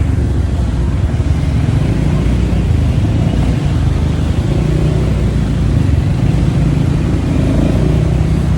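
Steady road traffic rumbles loud and close at night, a dense low engine drone with passing vehicles blending together, continuous throughout with no talk.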